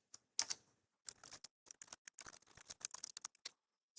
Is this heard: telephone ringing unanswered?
no